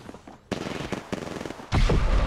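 Gunfire in a first-person shooter game, several sharp shots cracking out in quick succession before a louder, denser burst of firing at the end.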